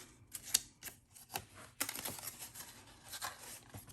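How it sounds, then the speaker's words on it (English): Paper clips come off sheets of paper in a file folder craft project, giving a few sharp, quiet clicks and rustles in an irregular rhythm, close by in a quiet room. "let me take the paper clips off, it might be easier"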